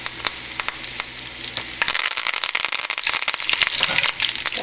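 Curry leaves and raw peanuts fry in hot oil for a Kerala spicy snack mixture. A low simmer bursts into loud, rapid spattering and crackling once the leaves hit the oil, then stays busy.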